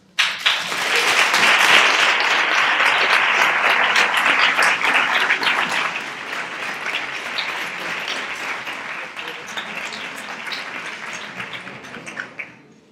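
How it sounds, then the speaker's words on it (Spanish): A crowd at the outgoing kings' and stars' coronation ceremony in Nerva breaks into loud, sustained applause that peaks early, eases after six seconds and fades out near the end, with faint voices mixed in. "Quiero un fuertísimo aplauso."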